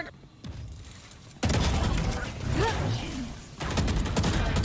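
Gunfire punching through a wall in the tactical shooter Valorant, a heavy burst of sustained shots that swells loud and dense, fades briefly, then returns, over low game rumble.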